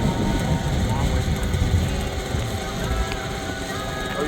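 A radio-controlled helicopter cutting down a tree drones steadily throughout, with a continuous engine and rotor hum mixed into broadband outdoor noise that fades slightly toward the end.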